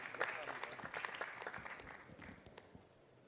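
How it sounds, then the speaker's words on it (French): Applause at a French hydrogen trophies award ceremony, a short burst of clapping that starts fairly full and fades away over a few seconds, with some voices mixed in. "On vous applaudit bien fort."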